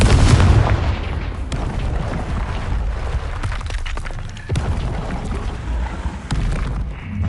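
The Confringo fire-blast spell explodes in a Hogwarts video game: a loud, deep boom opens, then a long rumbling, crackling wash of debris and blast noise follows for several seconds, with no voices.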